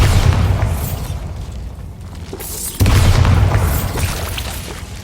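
Bombarda and Confringo spell blasts in Hogwarts Legacy: a loud booming burst at the start decays into rumble, then a second sharp explosion near the midpoint erupts and rolls on with heavy low roar.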